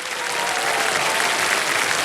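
A studio audience on a televised quiz show claps steadily, a dense continuous wash of applause that stays loud and even throughout with no voices standing out.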